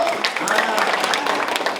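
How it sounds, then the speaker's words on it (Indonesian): Brief burst of audience applause during a women's group visit to a Yakult factory, many hands clapping close and fairly loud, with a voice briefly over it. "tepuk tangan dong Bu."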